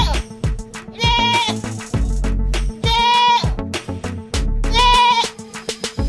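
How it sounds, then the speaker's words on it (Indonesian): A goat bleats loudly three times in a row, each call a long wavering cry with a few seconds between, close up, with clattering and bumping sounds around it and no speech. "ternyata ini kambing"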